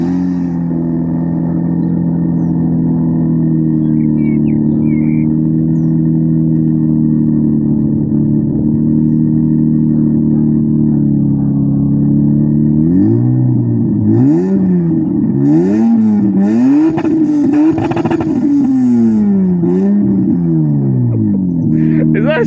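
A 2-litre Renault Clio RS200 engine fitted with a pod filter, first idling in a loud, close, steady drone, then revved repeatedly in sharp rising and falling bursts, with people talking over it.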